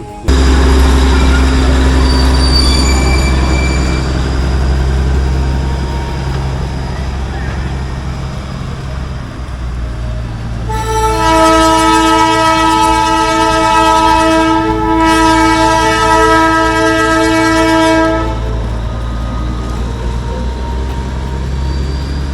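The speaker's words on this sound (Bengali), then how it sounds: "তোমরা এখনই টয় ট্রেনের দেখা পাবো আওয়াজ পাচ্ছি দেখো পেয়েও গেলাম টয় ট্রেনের দেখা" The Darjeeling toy train rumbles past in the hills near Kurseong, its engine noise loud and steady throughout, with a long, loud horn blast sounding for several seconds midway.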